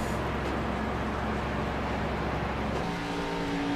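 A race car engine at an Auto Club race league event drones loudly and steadily up close, then shifts pitch near the end as it changes speed.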